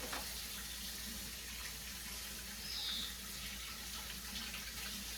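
Hot water runs from a kitchen tap, a quiet, steady hiss of flowing water filling a glass, alone without talk.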